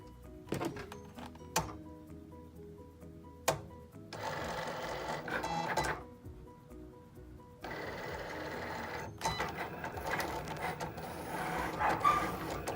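A Cricut cutting machine cuts out letters and numbers for a yard sale sign: sharp clicks and thunks, then stretches of busy whirring carriage movement that stop and restart, close and fairly quiet.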